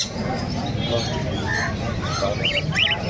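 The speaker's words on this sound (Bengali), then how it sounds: "লুটিনো হেভি পাইড আছে। তো ডিএনএ করা পাখি আছে" Pet birds chirp at the Naihati bird market, with short high calls rising near the end over a steady hum of crowd chatter and voices.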